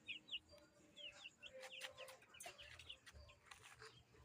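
Several chickens cluck and chirp softly at a distance, overlapping in an irregular, busy pattern with no talking.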